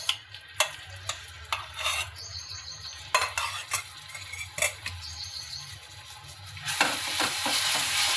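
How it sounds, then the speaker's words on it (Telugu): Ginger-garlic paste and green chilli paste fry in a pan with a soft sizzle. A utensil scrapes and knocks against the pan repeatedly, and the sizzle swells louder near the end. "పచ్చివాసన పోయేంత వరకు ఫ్రై చేయాలండి."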